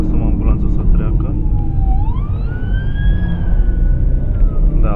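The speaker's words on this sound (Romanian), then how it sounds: "Să lăsăm ambulanța să treacă." An ambulance siren wails and rises in pitch as it passes on a snowy mountain road in Romania's Olt Valley, loud and steady over car road noise, while someone talks inside the car.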